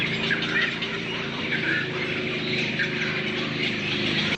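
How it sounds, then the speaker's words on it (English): Birds call and chirp continuously in the Trà Sư forest, a dense chorus of overlapping squawks and tweets at steady volume, with no voices present. "This is an opportunity to explore the exciting life of birds in the forest."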